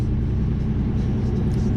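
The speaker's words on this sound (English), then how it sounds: "Thanks, big truck." A big truck on the road, a deep continuous engine rumble heavy in the low end, close and steady throughout with no voices.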